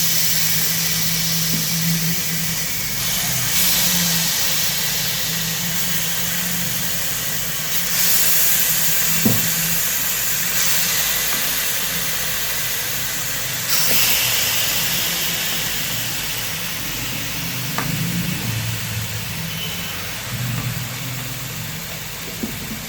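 Chicken frying in a pan for chicken biryani, heard as a loud continuous sizzle and hiss with occasional faint clinks and stirring sounds, and no talk.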